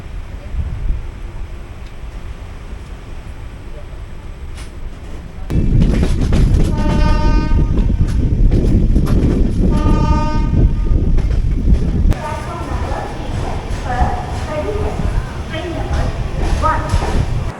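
The 18045 Shalimar to Vizag passenger train runs past on the East Coast line toward Visakhapatnam station, its heavy rolling rumble loud and close, with a horn sounding in repeated blasts midway and a softer second horn near the end.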